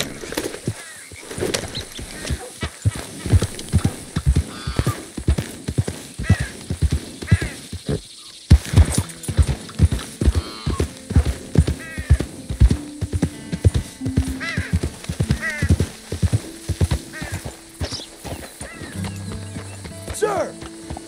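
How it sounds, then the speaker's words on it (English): A horse in a hunting video game clops along in a fast, regular rhythm of close hoofbeats, with a whinny partway through, over game music and voices talking. "Just look at that horse."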